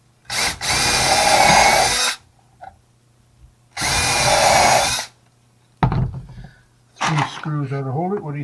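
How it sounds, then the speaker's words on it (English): A power drill drives a screw into plywood in two loud, sustained whirring bursts of about two seconds each, followed by a short clatter, with someone talking afterward. "And then put a countersink in here, and then screw this in."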